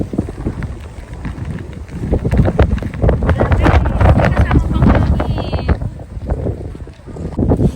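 Strong wind gusts in heavy snow batter the microphone in rough waves, while people talk intermittently beneath the blustery roar.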